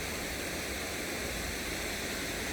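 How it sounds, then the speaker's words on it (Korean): The Suwon stream rushes past Hwahongmun gate at the Hwaseong fortress, a loud, steady, broadband roar of churning water with no break. "콸콸콸콸 흐르는 물소리가 정말 장관이네요"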